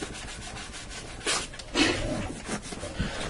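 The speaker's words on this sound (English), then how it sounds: "I'm going to cut this into strips." A knife slicing flour-coated steak into strips, giving soft scraping, rubbing cuts in short separate strokes, close and quiet with no talk.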